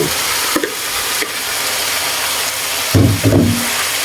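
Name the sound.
eggplant and string beans added to pan, stir-frying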